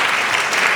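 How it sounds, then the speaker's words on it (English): An audience at a Jerusalem Post conference in Washington claps loudly and continuously, a dense close wash of hands with no pauses. "You deserve clapping hands before we start."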